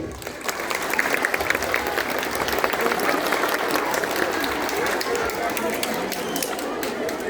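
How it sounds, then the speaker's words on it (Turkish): A crowd at a primary school ceremony in İznik claps strongly for the schoolchildren, a loud, continuous patter of many hands with some background chatter, building slightly and sustained to the end. "Bu çocuklarımıza kuvvetli bir alkış yapalım"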